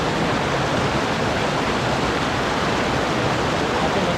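A strong riverside current rushes past in the countryside, a steady, loud, unbroken wash of water close by with no pauses.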